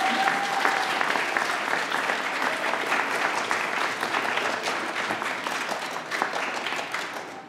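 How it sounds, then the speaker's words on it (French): A school audience applauds at the announcement of the winning schools in the 2017 Cubes énergie challenge, with sustained dense clapping that stays steady and fades slightly at the end. "Oui, applaudissez-vous."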